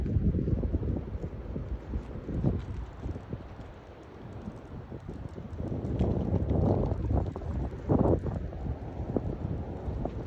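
Strong wind blows near a railway line, buffeting the microphone with a low, uneven rumbling roar that rises and falls in gusts over several seconds, with no voices.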